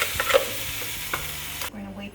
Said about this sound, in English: I'm going to add the sauce in.